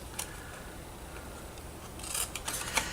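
Scissors snip at a small tab of a Tic Tac box, with a few faint isolated clicks followed by a cluster of sharper close cuts near the end.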